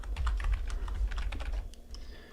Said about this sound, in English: I've never had so much pressure to get my typing correct.